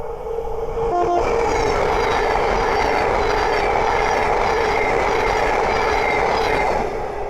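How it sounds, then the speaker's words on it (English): A Thameslink Class 700 electric train passes on the East Coast Main Line at Great Wymondley, a loud sustained roar with rolling wheel noise and a brief tonal blip near the start. "Okay, the next train to pass by is a Thameslink 700."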